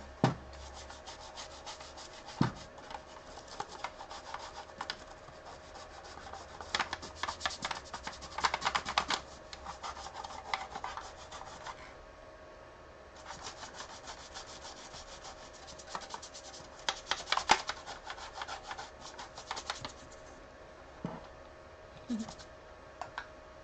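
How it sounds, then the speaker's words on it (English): Magic Eraser scrubbing a scuff off the plastic shell of a Super Nintendo console, heard as soft, close rubbing strokes in uneven bursts with small clicks and taps, and no talking. "Use the Mr. Clean Magic Eraser to get that little scuff off of there."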